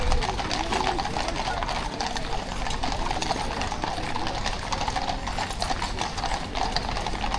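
Horses' hooves clip-clop steadily past on a street, close and continuous against a busy outdoor background.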